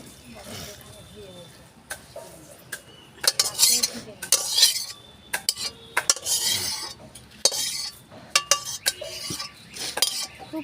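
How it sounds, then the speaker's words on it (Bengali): A metal spatula scrapes and clinks against a pan while chili, peas and carrot are stirred for pea rice, repeated sharp scraping strokes in an irregular rhythm, close and fairly loud, with occasional talk between. "এবার আমি খুন্তি দিয়ে এটাকে একটু উল্টে পাল্টে দেবো"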